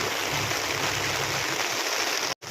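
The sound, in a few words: river water flowing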